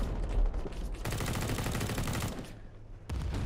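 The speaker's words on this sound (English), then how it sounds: "He's got his MG4, which is actually a really fast firing machine gun." An MG4 machine gun in the video game Call to Arms fires fast continuous bursts, a dense rattling stream of shots with a brief pause before another burst, set against a loud battle backdrop.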